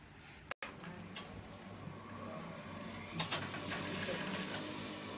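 A sewing machine stitches around the armhole of a waistcoat, running in a steady mechanical whir with faint ticking, close but quiet, with a sharp click near the start and a slight rise in speed toward the end.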